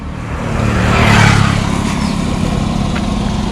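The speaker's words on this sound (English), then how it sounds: "There's a bit of traffic now." A car engine drones past on a road, rising to a broad swell around the first second and easing off into a steady rumble of traffic nearby.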